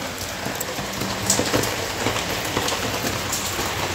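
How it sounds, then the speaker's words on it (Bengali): Steady rain falls outdoors while people head out under umbrellas, a continuous broadband hiss of drops with a few slightly louder spatters, no talk heard. "বৃষ্টি হচ্ছে"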